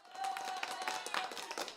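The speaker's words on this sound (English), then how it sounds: "We got a little bit of an applause there for you" A brief applause sound effect plays, quick scattered claps close to the listener with a faint tone running underneath, lasting under two seconds.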